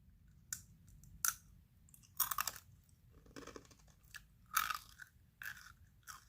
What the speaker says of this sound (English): you hear yourself chewing, especially if it's crunchy